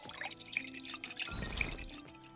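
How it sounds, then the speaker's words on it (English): Liquid pouring and dripping as ale is served in the Tavern Manager Simulator game, a steady trickling splash with scattered drips running through the whole stretch, moderately loud with no talk over it. "Time to pour the ale."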